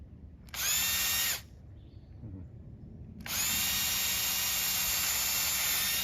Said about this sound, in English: I found it a little easier to pre-drill the holes into the tubing